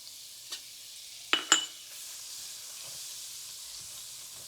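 Butter sizzles in a pan after a few sharp clinks, settling into a soft, faint, steady hiss.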